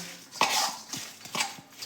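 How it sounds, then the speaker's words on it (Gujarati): A spoon scrapes and clinks against a bowl in a few separate strokes while a thick spiced potato filling for aloo paratha is mixed; no talking. "બધું જ આપણે મિક્સ કરી લઈશું"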